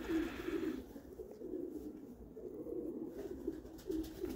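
Pigeons coo steadily inside a pigeon loft in spring, a continuous near chorus of low, throaty, rolling calls overlapping one another with no talking.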